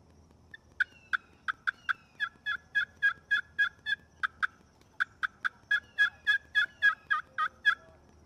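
A copper pot turkey call is scratched out in crisp, rapid yelps, close and clear, in two bursts of evenly spaced notes with a short pause between them over quiet outdoor background.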